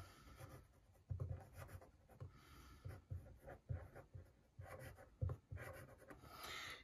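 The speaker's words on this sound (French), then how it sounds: "Et de l'autre côté de la feuille, on dessine l'autre personne." Pencil strokes scratch across a sheet of paper while stick figures are drawn, coming in short, uneven bursts of scribbling with brief pauses between them. The sound is close and fairly soft, with no talking.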